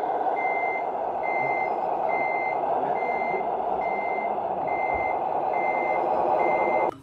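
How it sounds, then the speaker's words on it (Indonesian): A battery-powered toy cement mixer truck sounds a steady series of evenly spaced reversing beeps over a loud continuous motor whir, with no voices. "Widih, ada mobil molen."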